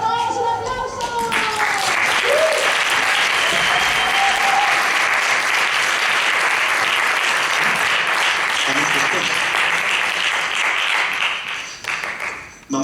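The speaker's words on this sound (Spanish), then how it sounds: "un aplauso" Sustained audience applause at a landscape-themed cultural festival from Castilla-La Mancha, a dense crowd clapping loudly and steadily for about twelve seconds, with a host's voice briefly over the start before the clapping fades near the end.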